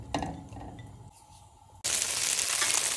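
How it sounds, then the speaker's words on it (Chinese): Tofu dropped into hot oil in a pan sets off a loud, steady broadband sizzle that starts abruptly after a few soft clinks of utensils and holds close and continuous. "把豆腐放下来煎"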